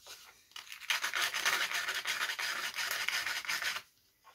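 A model airplane part, from a Guillow's Nieuport 11 conversion, being sanded by hand: a close, steady scratchy rubbing that runs in quick back-and-forth strokes for about three seconds before stopping.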